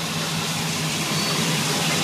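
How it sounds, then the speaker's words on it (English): A Formula 252 boat's engine runs steadily near a marina, a constant broadband drone with a low rumbling hum, loud and unbroken with no voices. "Engine sounds good."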